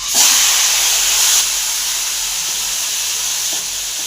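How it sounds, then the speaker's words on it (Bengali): Marinated chicken dropped into hot oil, a loud burst of sizzling hiss that swells at the start and settles into a steady, close frying hiss. "মুরগির গোশটা আমি তেলে দিয়ে দেব"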